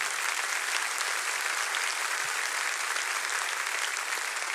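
A church congregation applauds, a steady, evenly dense round of clapping that holds at the same loudness for the whole stretch with no voices over it.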